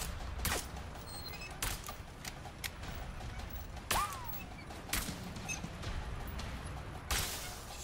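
Gunfire in the video game A Way Out, scattered sharp shots cracking at irregular intervals over a low ambient bed, fairly faint and spread across the scene.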